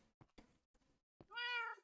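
A Minecraft cat gives one clear, drawn-out meow near the end, after a few short soft clicks and thumps, with no talking over it.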